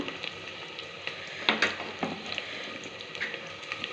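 Chopped onions and green chilies fry in an Indian-style pan, a steady soft sizzle with a few sharper crackles and spatters, fairly quiet and close.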